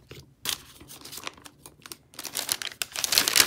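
Paper die-cut stickers for a planner rustle and crinkle as they are handled, irregular close-up bursts of crisp paper noise separated by short pauses, growing busier toward the end.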